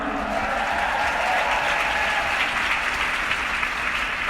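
A convention crowd at a USANA event keeps up a loud, even round of clapping from start to finish, with no talk over it.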